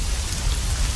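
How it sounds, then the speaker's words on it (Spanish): Heavy rain pours down steadily, a dense, continuous hiss of drops pounding surfaces with a low rumble underneath, close and loud throughout with no voices. "Sigue lloviendo muy duro."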